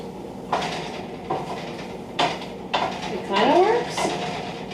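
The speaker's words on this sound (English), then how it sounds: "Transfer the chicken back to the skillet and spoon sauce over chicken pieces." A metal spoon repeatedly scrapes and clinks against a frying pan while spooning sauce over chicken pieces, in several distinct strokes, close by, with faint voices in the background.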